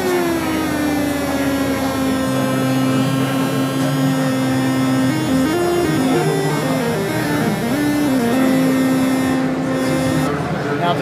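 Korg MS-20 mini synthesizer with both oscillators at 8 feet and both filters wide open, a loud, sustained bright buzzing tone with stacked harmonics that steps between pitches partway through, held continuously throughout.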